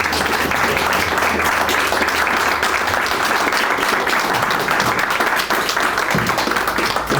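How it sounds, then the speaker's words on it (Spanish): Vigorous applause from an audience at a school ceremony, steady dense clapping throughout with a low hum beneath it. "se merece un fuerte aplauso, ¿no?"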